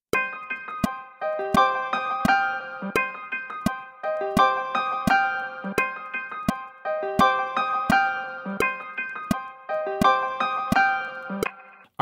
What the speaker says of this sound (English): let's lay down that piano